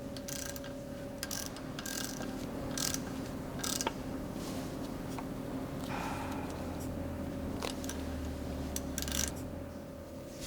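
Meritor air disc brake being de-adjusted by hand on a truck: a series of quiet mechanical ratchet clicks and ticks, irregularly spaced, with faint gear-like whirring over a low steady background hum, no voices.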